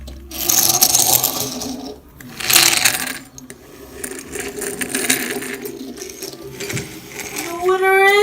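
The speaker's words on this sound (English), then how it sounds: "First up, Thomas versus Percy." Toy Thomas and Percy tank engines racing along a track, clattering and rattling in bursts with a whirring motor hum, close and fairly loud, with voices and a high squeak near the end.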